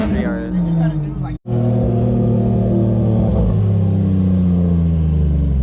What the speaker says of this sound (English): Like there's a GT3 RS that's mobbing.